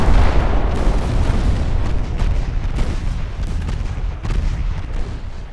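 Warship main guns firing in a naval battle in the game Ultimate Admiral Dreadnoughts, a dense, continuous roll of heavy booms and rumbling blasts overlapping without pause, loud and close.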